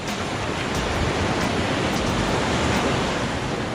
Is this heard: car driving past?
no